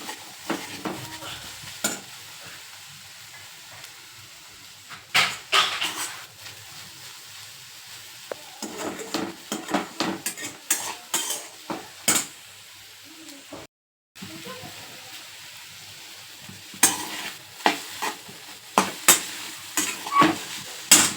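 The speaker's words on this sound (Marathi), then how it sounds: "कोथिंबीर टाकली मी थोडीशी आणि ती अशी हलवून घ्यायची" Sprouted moth bean (matki) dry curry with green chilli, garlic and fresh coriander, stirred in a pan: repeated close scraping and clattering strokes of the spoon over a faint background sizzle.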